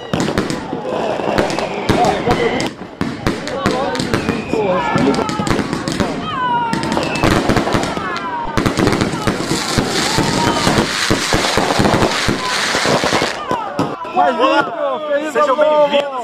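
Large New Year mortar shells burst one after another in sharp, loud bangs and crackles, with whistling rises between them and excited voices and shouting throughout.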